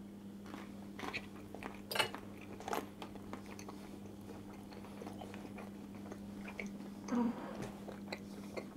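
Close, soft chewing and crunching of peperonata, Italian stewed peppers, eaten from a fork, with a few sharper bites and faint cutlery clicks over a steady low hum, no talking.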